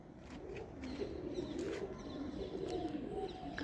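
Low, throaty pigeon coos roll on continuously, close by, with a few faint chirps in the background.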